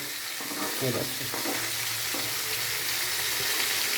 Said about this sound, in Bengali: এই মাছটা ভেজে নিচ্ছি আমি ভাজা প্রায় কমপ্লিটের দিকে